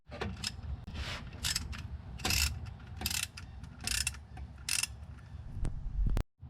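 A ratchet working loose the differential fill plug on a 2015 Jeep Grand Cherokee V6, heard as close repeated clicking bursts in uneven strokes, ending with a sharp clack, no voices.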